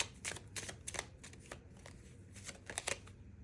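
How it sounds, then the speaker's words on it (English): Tarot cards are shuffled and drawn by hand: quiet, close riffling bursts and soft flicks in an irregular rhythm, with no talk. "I feel like I need to pull 2 tarot cards."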